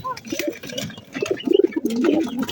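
Pigeons coo softly nearby, several low throaty calls overlapping in short bursts.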